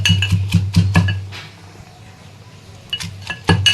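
Garlic being crushed by hand in a metal cooking pot, with raw beef, chillies, bay leaves, salt and ginger paste, heard as several sharp clinks and knocks in two short bursts separated by a quiet pause.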